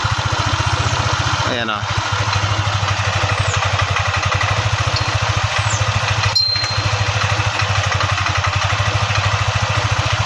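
A Yamaha Aerox 155 scooter idles roughly close by, its steady, uneven engine pulse running throughout, with someone talking over it and a brief clunk near the middle.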